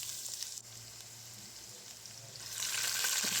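Chopped ginger frying in hot oil with mustard seeds for upma, a steady close sizzle with soft crackling that brightens and grows louder toward the end, with no voices.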